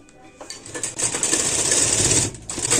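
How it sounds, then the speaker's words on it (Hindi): A sewing machine stitches the sleeve of a ladies shirt, starting with a few clicks and then settling into a loud, steady, close mechanical whir that dips briefly before it resumes. "मैं इसकी यहीं तक सिलाई करूंगी"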